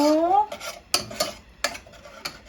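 A utensil scrapes and clinks against a pan while chili is stir-roasted for jackfruit curry, several sharp metallic taps and scrapes close by, following a brief voice at the start.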